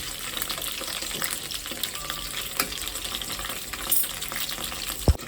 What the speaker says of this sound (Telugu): అయితే వేగుతున్నాయి చూడండి